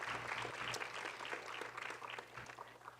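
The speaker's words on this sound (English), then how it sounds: "Can we just get another round of applause for our recipients so far?" Steady applause from a crowd at a human rights awards ceremony, dense clapping filling the room throughout with no talking over it.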